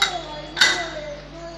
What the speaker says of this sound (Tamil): இப்போ நம்ம விசில் போட்டுடலாம்.